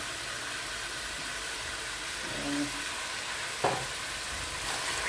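Meat frying with a little tomato coulis in a pan, a steady hiss of sizzling throughout with a brief stir or clatter partway, fairly close and even in level.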